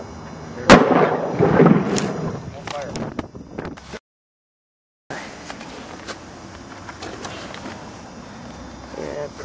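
A homemade chlorine bottle bomb bursts with a sharp, loud bang early on, followed by a scatter of smaller cracks and echoes outdoors, with people talking excitedly around it.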